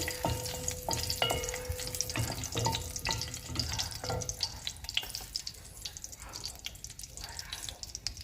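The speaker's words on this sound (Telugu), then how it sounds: "నూనె కాగింది ఎండుమిర్చి వేస్తున్నాను ఎండుమిర్చి కొద్దిగా కొద్దిగా లైట్గా అట్లా వేగిన తర్వాత" Dried red chillies frying in hot oil, a steady close sizzle and crackle running throughout, with occasional clinks and stirring scrapes over it.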